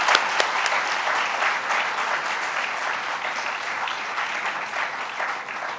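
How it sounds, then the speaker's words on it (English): A big round of applause opens the 12th International BICON 2017 conference: dense, sustained clapping from a large audience, loud and even for several seconds before gradually thinning. "let's get started on 12th International BICON 2017 with a huge round of applause"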